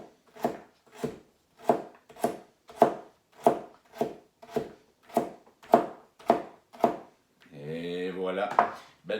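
A knife chops a carrot into sticks on a board with about fourteen crisp, evenly spaced strokes close up, followed by a brief voice at the end.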